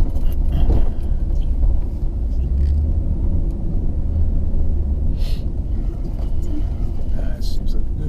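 A Ford F-250 pickup idles and rumbles steadily up close while parking, a low continuous engine drone running the whole time beneath a person talking.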